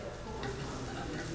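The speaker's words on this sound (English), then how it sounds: "Should I keep stirring it?" Vegetables for encebollado sizzling steadily in a hot pan while being stirred, a dense continuous frying hiss with soft scraping close by.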